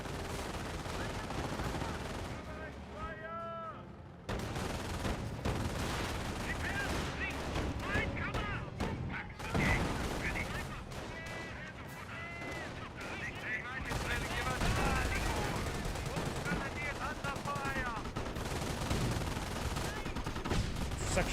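Gunfire and machine-gun bursts from a Company of Heroes battle rattle continuously at full level, with dense overlapping shots and explosions throughout, while a commentator talks over the action.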